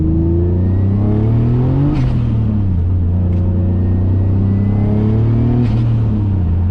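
A 450 HP turbocharged BMW E34 drones loudly from inside the car, its exhaust rumbling as revs rise and fall in smooth waves, with brief sharp turbo whooshes and hisses breaking through at intervals.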